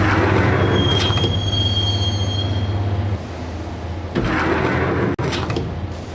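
A subway train in the video game Max Payne rumbles along the rails with a steady low drone, a long wheel squeal early on, and clanks and a sharp bang as it rides.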